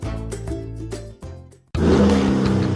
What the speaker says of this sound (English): That's the sound of the 2023 Chevy Silverado and its TurboMax engine